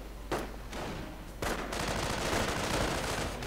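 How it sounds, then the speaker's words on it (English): An MG42 machine gun opens up in a Company of Heroes battle, sustained rapid bursts of gunfire with sharp onsets, loud and dense throughout the short stretch. "Although we do see the MG42 opening up instead."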